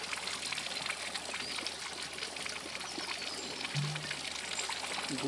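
A forest spring bubbling up into a clear natural stone pool near old ruins, its water gurgling and trickling steadily as it flows out, close and continuous at a soft level, with a brief low tonal sound near the end.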